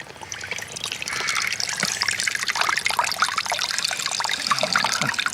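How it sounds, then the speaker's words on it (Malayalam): Water is poured into a container for making simple juice, a steady close trickle and splash that builds after the first second and runs on without talk. "അപ്പോൾ വെള്ളം നമ്മൾ ഇതിൽ ഒഴിക്കണം കേട്ടോ."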